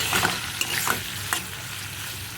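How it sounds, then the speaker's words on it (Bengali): Prawns fry in oil over a low gas flame, giving a steady close sizzle with brief stirring scrapes and small crackles throughout, no voices. "আরও কয়েকটা চিংড়ি মাছ আমি তেলে দিয়ে ভেজে নেব"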